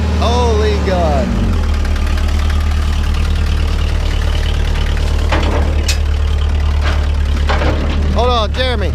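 A car engine idles roughly and loudly, with a throaty uneven rumble throughout; voices speak briefly over it near the start and end.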